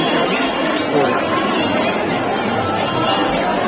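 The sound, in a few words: crowd of pilgrims at Lohargal on Hariyali Amavasya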